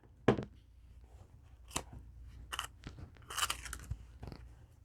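Plastic dice tray on a GemTech deck box being flipped down on its side, a few crisp close clicks and snaps spaced across a few seconds in a quiet room, no talking.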